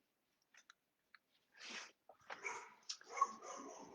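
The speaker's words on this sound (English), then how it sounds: "you will inevitably hear my dogs bark" Several dogs bark and whimper behind a closed door in a home, starting with a few faint yips, then louder bursts of barking that overlap toward the end.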